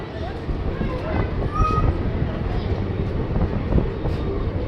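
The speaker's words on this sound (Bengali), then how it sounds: "5 মিনিট দাঁড়ানোর পর কিউল থেকেও ট্রেন ছেড়ে দিয়েছে।" An Indian passenger train travelling from Patna to Puri pulls out of Kiul station. A continuous close rumble of wheels and carriages grows slightly in places, with faint squeals above the rolling noise.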